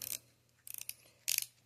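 Unidirectional rotating bezel on a Hamilton BelowZero 50 mm dive watch, turned in three short bursts of crisp, close ratcheting clicks separated by brief pauses in a quiet room.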